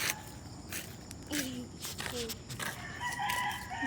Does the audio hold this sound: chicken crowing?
yes